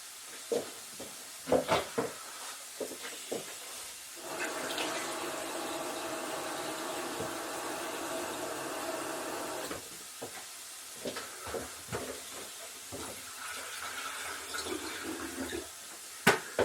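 Water rushes and hisses steadily for several seconds into a vessel before boiling for noodles, framed by scattered clicks and clatter of handling before and after.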